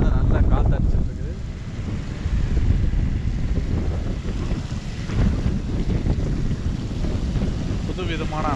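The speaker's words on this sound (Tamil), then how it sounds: "மேலே வந்து நல்லா காற்று அடிச்சிட்ருக்குது." Wind blows across the upper deck of a river cruise boat near Kom Ombo, Egypt, a steady, close rumble of microphone buffeting with surging gusts throughout.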